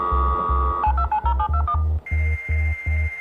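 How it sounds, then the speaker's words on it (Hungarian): A dial-up modem dialing a home telephone line: a steady dial tone, then a quick run of touch-tone dialing beeps over a repeating low pulsing hum, followed by a higher tone. "a betárcsázós modem egy igazán lassú és nagyon zajos technológia volt"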